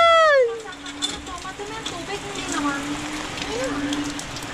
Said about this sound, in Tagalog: Yun na, lakas ng ulan.